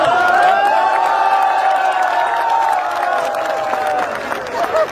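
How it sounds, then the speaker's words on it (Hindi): A comedy show crowd applauds and cheers as one continuous roar for about five seconds, with a sustained tonal whoop or shout running over the dense wash of clapping before it tails off. "और तालियां तो इस बात पे बजाना"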